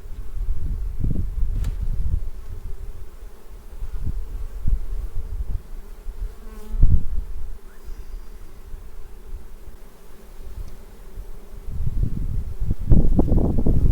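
Honeybees buzz around a hive in a low continuous drone, with occasional louder passes close by and gusts of wind and rustling mixed in.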